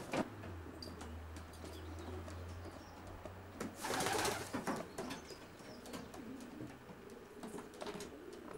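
Racing pigeons coo softly and steadily inside a widowhood loft section, with low rolling calls, a brief flutter of wings midway and faint shuffling, all heard alone in a quiet indoor space.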